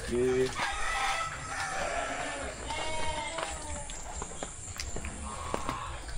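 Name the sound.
chickens clucking and rooster crowing at farm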